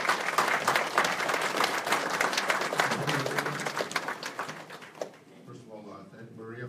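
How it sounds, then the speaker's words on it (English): Audience applauding at a library branch renaming ceremony, a sustained wash of clapping filling most of the moment before it thins out and a voice begins speaking near the end. "Next round of applause, please."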